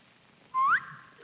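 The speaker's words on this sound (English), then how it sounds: "That is a rather mild-type wolf whistle" A mild wolf whistle on a 1956 television panel game show: one short, clear whistle that sweeps upward, heard alone against a quiet room.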